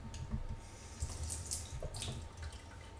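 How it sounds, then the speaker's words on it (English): A tablespoon of water poured into icing sugar for a Christmas strudel: a soft, steady trickle with faint splashy drips, close by and fairly quiet. "I want to add in 1 tablespoon, that's 15 mils of water"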